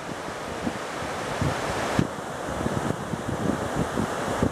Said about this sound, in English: we've reached what is perhaps the most dramatic waterfall, at least so far